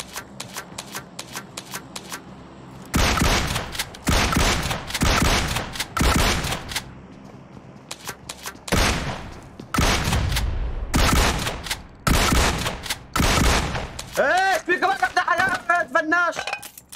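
Shotgun fire in a squad battle video game: a rapid series of loud, close blasts in uneven bursts over game ambience, with chiming effects near the end.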